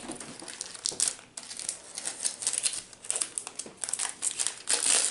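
Crinkling and crackling of a foil Pokémon trading card booster pack being torn and wrestled open, steady close-up rustle with sharp crinkly bursts throughout and no talking.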